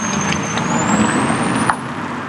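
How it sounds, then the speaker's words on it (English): Hyundai IONIQ Electric's virtual engine sound system plays a steady, fairly loud synthetic drone from its speaker while the car rolls at low speed, with a continuous tonal hum over road noise and no voices. "emitting a droning sound from a speaker at low speeds up to about 19 or 20 miles per hour in the IONIQ"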